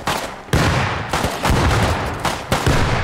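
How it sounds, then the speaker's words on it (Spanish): A drone fires gunfire in the Rust video game, a loud, dense stream of rapid shots with several sharp bursts that keeps going without a break, up close and with no talk. "Es el dron el que está llamando, ¿no? El que está disparando, ¿no?"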